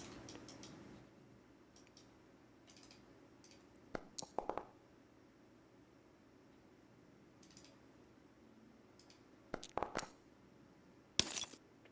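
Glass-impact dice rolls from the Dice So Nice module in Foundry VTT: a few short clattering clicks in bursts near four, ten and eleven seconds over a quiet background hum.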